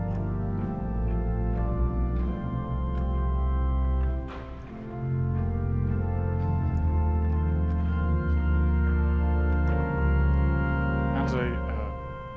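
Sustained chords on the dulciana stop of the pipe organ at Old St. Patrick's Cathedral in New York City, full and steady with shifting harmonies, played alone in a large resonant church.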